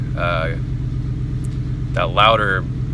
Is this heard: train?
no